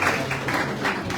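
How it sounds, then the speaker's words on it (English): A round of applause from the audience at a symposium on drug abuse, steady overlapping clapping that holds through the brief moment. "Let's give it a round of applause."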